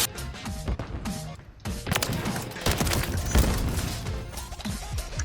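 Rapid bursts of shotgun fire and impacts in a hardcore Search and Destroy match of Call of Duty Modern Warfare 3 and Black Ops 6, a dense fusillade of close, loud blasts with crashes and thuds.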